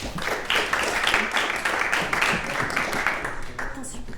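A studio audience on a French talk show applauds as two female guests are called onstage, a dense, steady burst of clapping that fills the room and fades slightly at the end.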